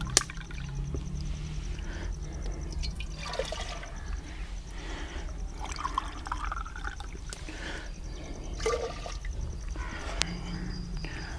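Water is poured into a clay handi set on a stove to make sugar syrup for gulab jamun, a soft, close splashing and trickling that continues unevenly with small gurgles, no talk.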